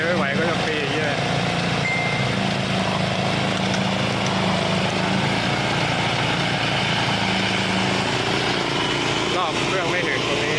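Homemade Thai-built lawn mower engine runs steadily and loudly close by, a continuous droning rumble with a few shifts in load, while someone talks over it.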